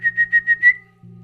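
A man whistles at night to call a dog, a rapid series of five short, clear whistle bursts that end in one held note, close and loud, then quiet.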